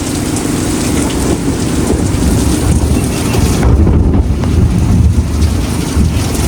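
Heavy rain pours steadily through a thunderstorm at sea while squid jigging, with low rumbling thunder rolling beneath the constant loud hiss of downpour and wind buffeting the microphone.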